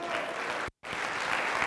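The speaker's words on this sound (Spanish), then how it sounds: "un fuerte aplauso para todos ustedes." A live audience claps steadily at a Spanish-language training event, dense and continuous applause with a brief silent gap partway through.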